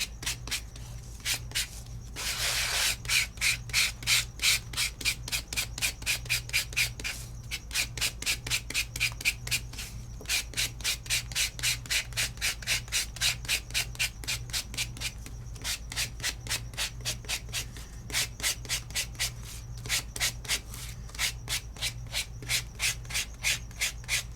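Steady rhythmic rubbing of sandpaper across embossed card, fast back-and-forth strokes continuing throughout, close and fairly loud, with a brief harsher burst early on.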